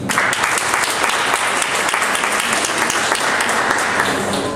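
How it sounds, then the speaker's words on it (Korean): An audience at a club presentation contest claps loudly and continuously as the judges are introduced, a dense, steady burst of applause filling the room without a break. "소개할 때마다 큰 박수를 부탁드립니다."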